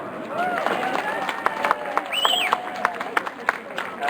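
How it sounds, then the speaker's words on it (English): Crowd applause and some cheering for a Melbourne taiko drumming group at an outdoor rally by a central train station, mixed with background chatter and a ringing tone, with a few louder claps standing out. "If we could give another round of applause to Wadaiko Rindo"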